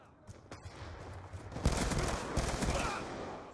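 Shotgun blasts in a Call of Duty Hardpoint multiplayer match, a few sharp shots followed by a denser burst of gunfire, heard at moderate distance under game ambience.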